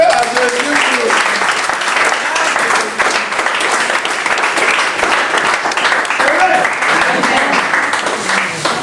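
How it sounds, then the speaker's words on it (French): A crowd applauds steadily and loudly for several seconds, with voices and cheering mixed into the dense clapping. "Il faut applaudir à Jésus"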